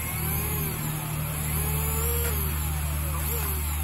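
An Arrma Mojave RC car's electric motor runs steadily and loudly throughout, a continuous whine with a few rising and falling pitch sweeps as the throttle changes.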